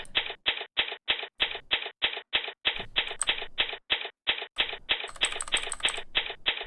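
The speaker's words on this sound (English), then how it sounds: "This damn typewriter sound." Typewriter-style text-scroll effect from the Ace Attorney video game: a rapid, even run of short mechanical ticks, each burst followed by a brief gap, loud and close with no talking.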